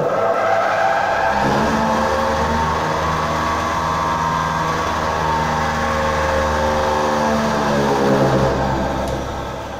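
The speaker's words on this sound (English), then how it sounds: "For force convection, we have fitted one blower which blow the air" Air blower on a forced convection pin fin heat transfer apparatus, a loud continuous close whirring drone with a steady tonal hum that holds evenly and fades slightly at the end.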